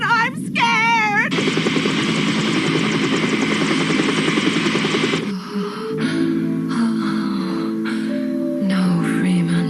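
An animated helicopter scene opens with a short voiced cry, then a loud, rhythmically pulsing rotor chop holds for about four seconds before cutting off into quieter tonal sounds and talking.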